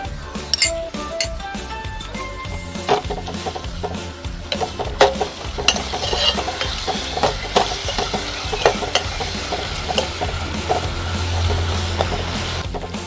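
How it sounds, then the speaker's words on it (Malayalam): Vinegar poured into a pan and stirred for an Onam-style large lemon pickle: steady clinks and scrapes of a spoon against the pan with a light sizzle, close and continuous, with no talk. "ഇനി നമുക്ക് 1 സ്പൂൺ വിനാഗിരി ഒഴിച്ചു കൊടുക്കാം."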